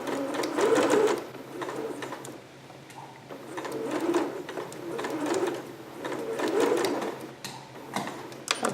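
A home sewing machine runs in bursts of steady mechanical whirring, set to a long stitch to sew a sleeve over pins, with brief pauses and restarts between runs.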